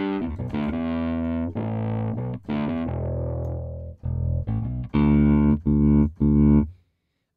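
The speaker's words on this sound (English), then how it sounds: "this basically allows you to add in anything from a little crunch to the tone to full-on distortion" An electric bass played through a gain distortion effect, gritty overdriven notes in short phrases with sustained tones and choppy stabs, ending in a sudden silence.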